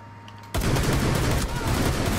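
Loud, dense gunfire from Rainbow Six Siege bursts in abruptly after a quieter moment and continues as rapid sustained shooting to the end, with no talk over it.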